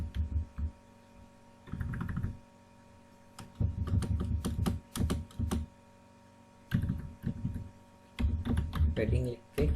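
Bursts of close computer keyboard typing come in irregular clusters of rapid key clicks separated by pauses, with speech heard between the bursts.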